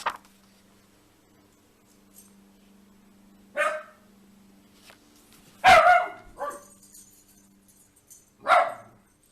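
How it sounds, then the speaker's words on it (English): A pet dog barks in the background of a quiet room, about four separate sharp barks and yips spaced a few seconds apart, moderately loud against near silence. "That's my dog in the background."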